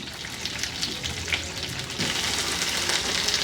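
Cut cauliflower and flat beans fry in oil in a wok, a steady broad sizzle that swells louder partway through, joined by faint stirring scrapes, with no voices.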